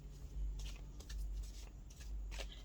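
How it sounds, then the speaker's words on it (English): A deck of tarot cards is given a few extra shuffles, producing quick repeated riffling flutters in short bursts, fairly quiet and close. "I already pre-shuffled, so I was just giving them a few more."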